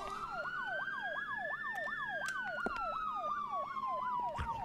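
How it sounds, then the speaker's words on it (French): Police siren in the video game Projet BLARI, a fast wailing yelp over a slower rising and falling tone, steady and fairly clear, with a few sharp clicks. "j'entends les sirènes là-bas"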